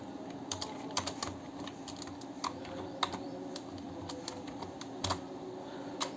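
Someone types HTML code on a computer keyboard, producing soft, irregular key clicks in quick bursts over a faint steady hum, close and quiet.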